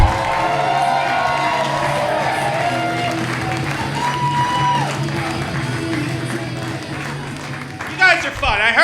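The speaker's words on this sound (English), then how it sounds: "Just start clapping right now. Make all the noise you can." A comedy club crowd in Chicago cheers, whoops and claps for the headliner, a dense, loud, sustained roar with steady applause and a host's voice talking over it, ending in a sharper burst of shouting.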